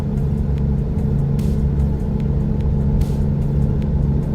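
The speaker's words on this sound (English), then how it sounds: "I'm driving a diesel truck" Diesel truck engine in American Truck Simulator hums in a steady, low rumbling drone at constant speed, with faint periodic ticks above it.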